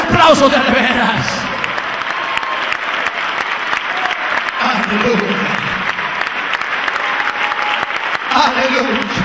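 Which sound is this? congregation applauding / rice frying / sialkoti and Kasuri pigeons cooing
congregation applauding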